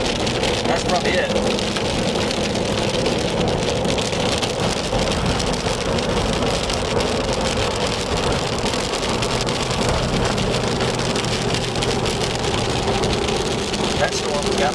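Heavy rain drums steadily on a storm-chasing vehicle during an Oklahoma thunderstorm, a dense continuous wash of close, loud rainfall with a low rumble underneath and a voice faintly present.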